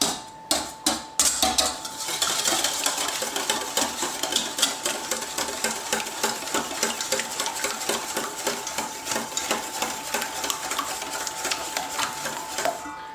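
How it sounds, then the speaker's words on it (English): Ingredients for buffalo chicken mac and cheese being whisked in a bowl, a fast, even run of light metallic ticks from the whisk against the sides that continues steadily for several seconds after a few sharper knocks at the start. "We're going to whisk those."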